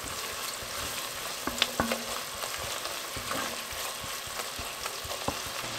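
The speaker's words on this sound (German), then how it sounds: "Auch kurz mit anbraten." Flour and potatoes sizzle and fry briefly in a pan for a creamy broccoli soup, a steady crackling hiss broken by a few stirring scrapes and clinks of a utensil.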